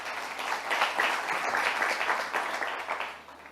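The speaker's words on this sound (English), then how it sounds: "Please, let's give her a round of applause." A leadership and ethics summit audience gives a round of applause, a dense, moderately loud patter of clapping that swells and then fades slightly toward the end.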